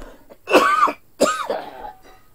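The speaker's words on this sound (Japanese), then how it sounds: "あ、咳が止まんないね。" Two loud harsh coughs close to the microphone, about a second apart, each a rough burst trailing into a raspy throat-clearing tail, from a man with a persistent cough; no talk.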